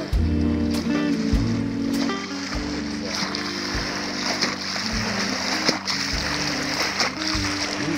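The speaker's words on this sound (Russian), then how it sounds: "Волна как на море." Water sloshing and splashing against a fishing boat over a constant low engine drone, with occasional louder splashes.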